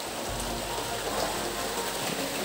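Steady rain falling on an evening at an outdoor dining spot, a dense continuous hiss of drops on surfaces, loud and close with no voices.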